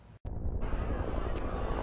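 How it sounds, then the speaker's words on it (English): Helicopters flying over a hillside brush fire, dropping water to protect homes; a loud, steady rotor and engine roar fills nearly the whole stretch after a brief dropout near the start. "Helicopters are dropping water, trying to save homes."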